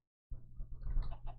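Chicken clucks from the Minecraft video game, modded version, several short game-sound bursts arriving in quick succession over a low steady background rumble, fairly close and clear with no talking.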